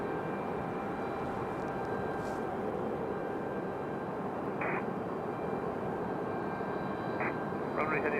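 An Airbus A319-100 jet, United flight 1340, departs Raleigh-Durham airport with a steady, broad engine roar that holds at moderate level throughout, a few faint brief chirps and clicks sitting on top.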